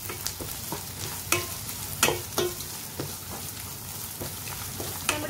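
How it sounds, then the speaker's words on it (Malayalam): Potatoes and grated coconut roast in a pan, a close steady sizzle broken by repeated scraping stirs of a spoon against the metal. "ഇനി ഇത് നമുക്കൊന്ന് മൂപ്പിച്ചെടുക്കണം"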